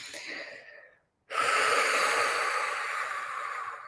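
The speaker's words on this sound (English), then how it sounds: "Let's take a deep breath." One person takes a deep breath, a soft exhale that trails off, a brief pause of silence, then a long, loud, close inhale that hisses steadily.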